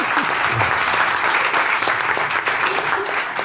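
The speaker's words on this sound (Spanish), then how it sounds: "Un fuerte aplauso para Pablo García de Fundación ADECO" Audience applause for a panel speaker from Fundación ADECO at a round-table event, a steady, dense wash of many hands clapping close by, sustained at full strength for the whole stretch with no talk over it.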